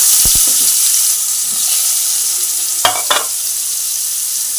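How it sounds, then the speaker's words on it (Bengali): Potatoes frying in hot oil for a Bengali potato and cauliflower dish give a steady, loud sizzling hiss, with a few brief clatters of stirring near the end. "আলুগুলোকে ভালো করে একটু নাড়িয়ে চাড়িয়ে একটু ভেজে নেব।"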